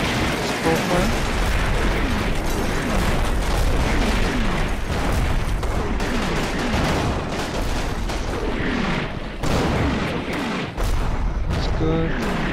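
Dense, continuous artillery barrage in the Combat Mission wargame, with repeated booms and crackling gunfire layered over each other at a steady loud level throughout, plus a voice talking over the battle noise.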